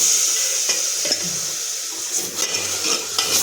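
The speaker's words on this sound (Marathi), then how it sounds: "गरम पाणी थोडंसं टाकायचं." A little hot water is poured into frying masala in a pan, raising a loud, close sizzle that steadies into bubbling as a spoon stirs and scrapes against the metal, with no one speaking.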